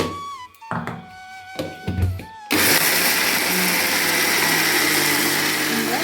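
A kitchen mixer grinder whirs loudly and steadily while grinding red rice flakes with jaggery for laddu. It starts abruptly after a few clunks and short tones of the jar being set in place, then runs continuously to the end.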